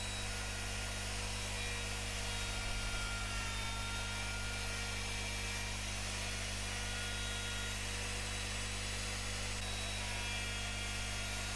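A handheld router with a copy bit cuts cavities into a Les Paul guitar body along a template, a steady high whine running unbroken and loud throughout, with no pauses or talk.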